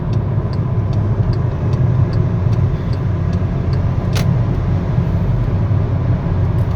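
A VW Golf 1.4 TSI with 160 hp, twincharged and DSG, making a 0-100 km/h acceleration run, heard as a loud, steady engine drone with road roar from inside the car, with faint regular ticking and one sharp click.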